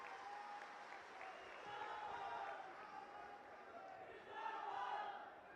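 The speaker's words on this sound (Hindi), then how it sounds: "एक बार जोरदार तालियों से हम उनका स्वागत करते हैं।" Applause from a large crowd at a political rally in Ratlam, Madhya Pradesh, a dense steady wash of clapping that swells twice, with distant voices underneath.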